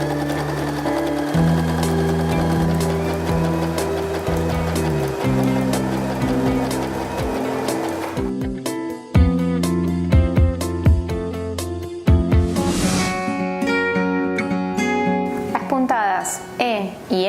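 Janome domestic sewing machine stitching fabric in long continuous runs, a steady humming motor with a rhythmic needle chatter, close and loud, shifting to choppier stitching with short pauses in the second half; a voice talks over parts of it.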